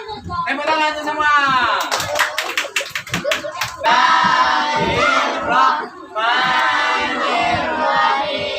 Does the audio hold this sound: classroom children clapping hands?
yes